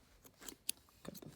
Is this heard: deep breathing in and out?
no